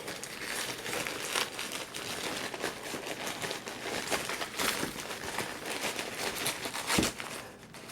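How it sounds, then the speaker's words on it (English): Packing paper crinkles and rustles continuously as a box of handmade pottery is unpacked, close and fairly quiet, with one sharper crackle near the end and no talking. "Packing paper."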